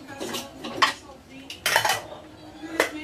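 Dishes and pots clatter in a few distinct bursts, with ceramic and metal clinks close by against a quiet room.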